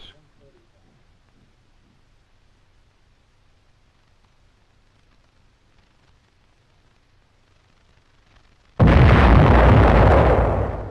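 An artillery gun fires a test shell, a sudden loud broadband blast after a long stretch of quiet that holds for about two seconds before starting to fade.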